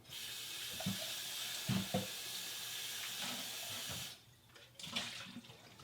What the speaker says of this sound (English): Now I'm going to rinse this out.